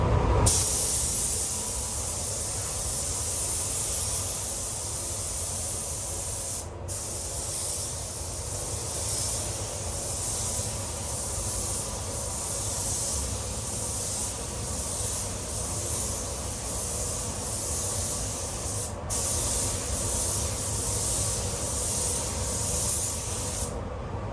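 A spray gun hisses steadily while painting a Mitsubishi Colt CZT in a paint shop, a close, constant airy spray broken by two brief pauses where the trigger is released.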